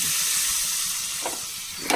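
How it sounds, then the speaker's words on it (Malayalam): Pappadam frying in hot oil in a home kitchen, a close, steady sizzle that holds evenly for the whole two seconds with no talking. "പപ്പടം വറുത്തെടുക്കാം"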